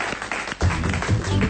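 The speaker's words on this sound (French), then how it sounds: "On peut applaudir Jen." Studio audience applause on a French TV show set, a dense steady wash of clapping that swells after a brief dip, with a voice faintly under it.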